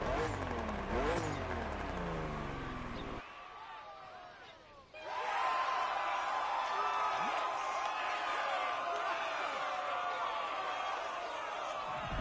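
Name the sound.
BMW M2 CS car engine in video game The Crew Motorfest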